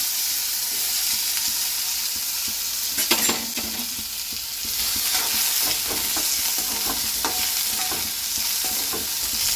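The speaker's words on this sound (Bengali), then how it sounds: "আলুগুলো আগে ভেজে নেব।" Potatoes fry steadily in a pan with panch phoron spices, a continuous sizzle broken by scraping and clattering stirring strokes, close and alone, with a sharper burst of stirring partway through.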